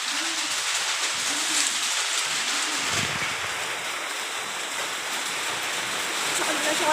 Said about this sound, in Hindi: कितना तेजी से बारिश होने लगा